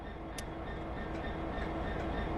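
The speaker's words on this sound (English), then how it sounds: "Put the train in forwards so we're ready to get moving." A train in the video game Train Sim World 3 starts to move with a steady low rumble of rolling stock, a faint tonal hum and a few light clicks, no talk.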